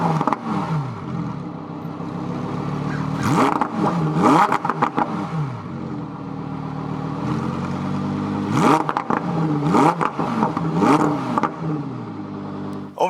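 A 2020 Lamborghini Huracan EVO Spider's exhaust, with its valves open, barks through several sharp revs that climb and fall back. The bursts come in clusters with crackles between them, loud and close.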